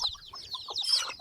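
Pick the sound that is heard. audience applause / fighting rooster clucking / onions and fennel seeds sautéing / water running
fighting rooster clucking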